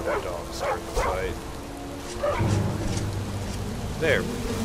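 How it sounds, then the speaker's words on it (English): A dog companion barks, yips and snarls in a fight in the Skyrim video game, several sharp barks spaced through the passage over a steady game background. "So that dog started to fight."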